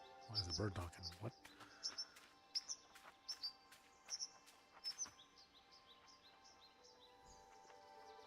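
Repeated high chirps from a bird in the game Bye Sweet Carole follow a short louder sound at the start, then continue in a fairly even string of quiet tweets over soft music.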